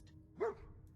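A single dog bark in Fallout 4, one short mid-pitched yelp rising out of a low background hum, moderately loud and alone.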